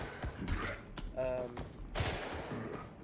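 Unsilenced gunfire in the game BRM5 Zombies PvE mode: rapid bursts of shots blend with a busy mechanical rattle and a dense game soundscape, fairly loud throughout the short stretch.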